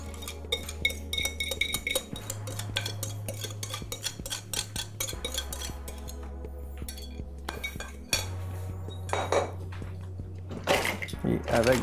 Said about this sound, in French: avec vos grandes pinces ou vos grandes mains, on va brasser tout ça